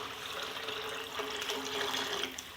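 Water poured from a vessel into a pot of chickpeas for a chickpea pulao, a steady splashing pour running through the whole stretch without talk.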